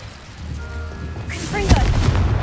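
In Hogwarts Legacy, an Incendio fire spell is cast with a rising whoosh followed by a loud booming burst of flame, close and full, and a voice calls out the spell.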